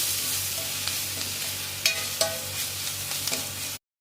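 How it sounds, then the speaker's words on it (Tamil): Ground paste with pepper powder and spices sizzles steadily in a hot pan for thuthuvalai soup, with a few scraping stirs of a spoon cutting through the close, continuous frying. "கொஞ்ச நேரம் வதக்கி எடுத்துக்குவோம்."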